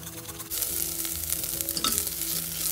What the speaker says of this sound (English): Let us saute all the masalas nicely for 2 minutes.